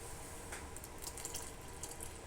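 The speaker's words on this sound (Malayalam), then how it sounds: "കുറച്ച് വെള്ളം കൂടി ഒഴിക്കുകയാണ്" Water pours steadily into a thick curry paste, a soft continuous splashing and trickling that stays fairly quiet throughout.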